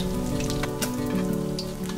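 Gourami fish frying in oil in a pan, a steady crackling sizzle with scattered pops over a low background hum.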